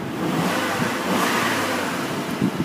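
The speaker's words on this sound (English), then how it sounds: "I will accelerate on the vehicle" A 1994 Saturn S-Series SW2 wagon, due for a new clutch, has its engine revved while accelerating, a steady, close, loud engine roar throughout.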